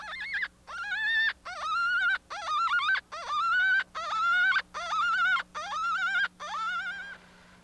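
A homemade plastic coyote hunting call blown in about nine drawn-out, wavering yips and whines, close and loud, each separated by a short gap, closely mimicking a canine's cries.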